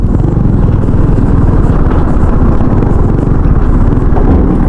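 A lowered motorcycle labours along a slippery muddy road, its engine droning loud and close in a dense, unbroken rumble with wind buffeting throughout and no clear speech.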